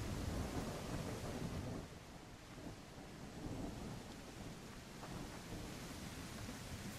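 Steady rain pours with deep rolling thunder in the tactical shooter game Exfil, a dense continuous roar that dips slightly partway through, with no voices.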